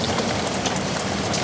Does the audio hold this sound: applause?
no